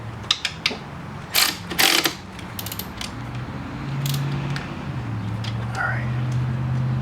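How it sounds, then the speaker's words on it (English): A ratchet tightening a bolt while replacing the alternator on a 2005 Subaru Legacy: a few quick clicking bursts close by, followed by a steady mechanical hum with faint whispered talk underneath. "And then go ahead and tighten it up."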